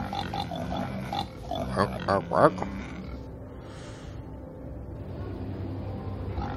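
Pigs grunt and oink at a pig farm in the city-building game Cities: Skylines, a short cluster of snorts under steady game ambience and background sound.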